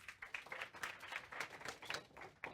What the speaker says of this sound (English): Give a big round of applause to both our panelists.